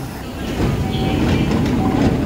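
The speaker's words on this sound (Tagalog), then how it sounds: "Oh, ganda na express train pa, Nara." A Kintetsu express train runs on rails on the way to Nara, a steady loud rumble with faint rhythmic rail clatter and a few high squeals throughout.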